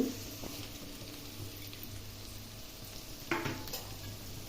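Chopped onions and green chilies frying in hot oil for egg rice, a soft steady sizzle with occasional stirring scrapes, no talking.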